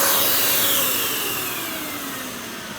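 An opened-up vacuum cleaner runs with a loud, steady broadband whoosh as it sucks in a piece of paper, the roar easing slightly over a few seconds with no talk.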